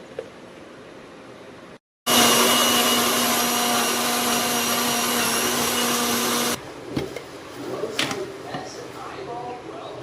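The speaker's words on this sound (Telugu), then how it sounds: "సో దీన్ని ఇప్పుడు మనం బ్లెండ్ చేసేసుకుందాం." A kitchen blender whirs loudly and steadily for several seconds as it blends mango milkshake with sugar, then cuts out abruptly, leaving quieter room sounds and light clatter.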